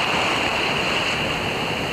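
Surf washes steadily onto a beach as the tide comes in, a continuous close roar of breaking water mixed with wind buffeting the microphone, no voices heard.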